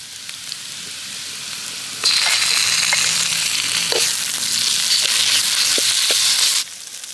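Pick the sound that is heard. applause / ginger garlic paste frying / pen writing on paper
ginger garlic paste frying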